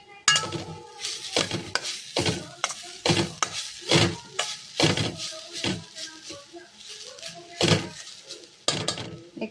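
Repeated scraping stirs in a pan with frying under them while fish is cooked into a dry masala sukka with grated coconut and kasuri methi. The strokes come in an irregular rhythm, loud and close, with metal clinks between them.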